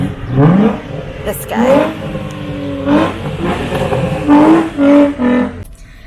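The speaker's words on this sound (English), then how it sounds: "Somebody was revving their engine." A car engine revs nearby in repeated loud surges with rising pitch, heard outdoors on an errand day beside a thrift store, with a person speaking briefly over it.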